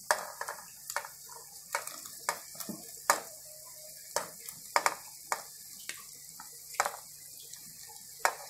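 Meat sizzles in a pan with softened sautéed onions, with a steady fry hiss and repeated sharp scrapes and clacks as it is stirred, close by and with no talking.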